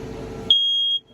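A single high-pitched electronic beep from a smoke detector by the entrance of a 2021 Clipper 9.0 CPC, sharp and steady for about half a second, cutting off a low background noise.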